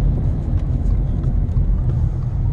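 Inside an all-wheel-drive Subaru Impreza on the road, a steady low engine and road rumble drones on with faint wind noise and no talking.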